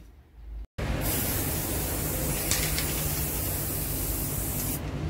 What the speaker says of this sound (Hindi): इस पॉट को और ये सब दिए को गोल्डन स्प्रे करूँगी